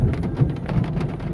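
Rain patters steadily during a lightning storm on a rainy day, a dense close hiss with low rumbling underneath, no talk.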